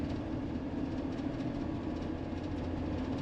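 Steady, loud rattling and rumble inside a diesel van while driving, a continuous clattery drone with no pauses.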